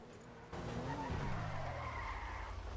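In GTA V, a car with a blown tire skids, its engine note jumping up and tire squeal sweeping across the track. The screech lasts about two seconds, fairly loud and close, with no talk over it.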